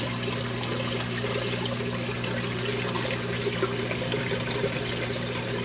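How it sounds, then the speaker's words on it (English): Water trickling through a filter sock on an aquarium tank, a continuous splashy trickle close to the microphone over a steady low pump hum, no voices. "my filter sock is working hard, removing all the fine particles"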